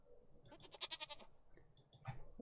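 A farm goat in the Stardew Valley video game bleats twice, a wavering, buzzy call followed by a shorter second cry, clear against a quiet background.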